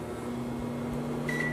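A microwave oven runs with a steady low electrical hum and a constant mid-pitched drone, and near the end a short bright tone rings out over it, with no one talking.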